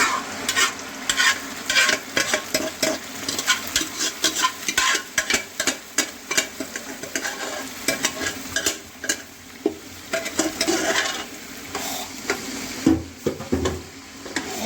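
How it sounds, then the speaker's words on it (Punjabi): Hot tempering sizzles into a pot of mustard greens saag with a loud, crackling hiss, broken by frequent scrapes and knocks of a spoon stirring against the pot. "ਸਾਡੇ ਸਾਗ ਨੂੰ ਤੜਕਾ ਲੱਗ ਗਿਆ"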